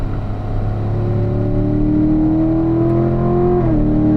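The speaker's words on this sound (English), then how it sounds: "Accelerate until we get to the turning cone here" A car engine revs steadily higher as it accelerates out of a turn, the pitch climbing smoothly before a gear change drops it near the end; no talking.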